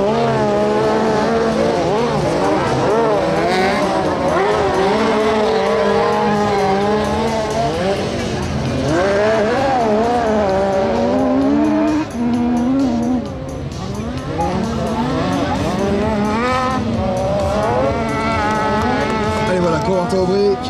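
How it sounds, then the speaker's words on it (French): Rally race cars competing at the Supersprint Les Cresnays 2025 hill event, engines wailing continuously with rising and falling revs and occasional tire squeal, loud and sustained under a French commentator talking throughout. "Corentin Aubry qui attaque la redescente"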